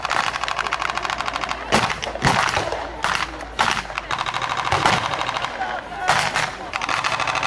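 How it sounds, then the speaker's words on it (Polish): Machine gun fire at a reenactment of a Polish battle near Brwinów, a heavy machine gun and light machine gun rattling in sustained rapid bursts at close range, broken by short pauses. "Polacy wykorzystują do walki zarówno ciężki karabin maszynowy, który znajduje się przy pierwszym stogu siana, jak i RKM"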